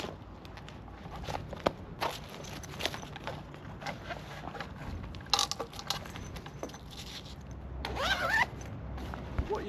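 The carry bag of a Seapro 3.4m soft inflatable boat is unzipped outdoors, with several sharp zipper pulls heard up close among footsteps and small rustles, the longest pull near the end.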